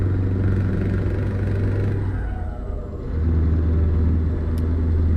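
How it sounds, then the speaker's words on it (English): A Scania truck in Euro Truck Simulator 2 runs with a modded Leipzig engine sound, its deep steady rumble droning loudly and briefly easing midway before settling back to a constant heavy hum. "it's Slav Jerry's Leipzig engine sound on Steam"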